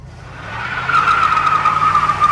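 Engine of an old barn-find Chevelle muscle car on its first drive after long storage, a rough roar rising steadily and loudly over a couple of seconds with a whining squeal on top, close by and with no speech.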